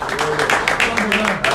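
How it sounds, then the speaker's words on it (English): A crowd applauding, a dense wash of clapping that swells and pulses over about a second and a half, with some voices mixed underneath. "Please, once again, another round of applause."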